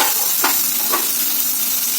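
Tomatoes and red pumpkin sauté in hot oil for South Indian sambar, producing a steady, close, even sizzle with a couple of soft stirring swishes.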